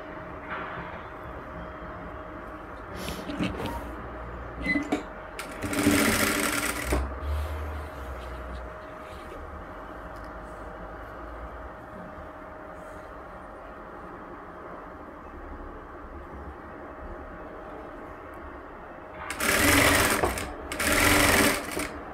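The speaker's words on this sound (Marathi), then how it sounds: "आणि अगदी इथे काठावर शिलाई मारायची, इथे ब्लाऊजवर नाही, या पट्टीवरच आली पाहिजे, पण अगदी काठावर शिलाई करायची आहे." A sewing machine stitches along the edge of a strip on a blouse back. It runs in short, loud whirring bursts with long quiet gaps, under a faint steady background hum.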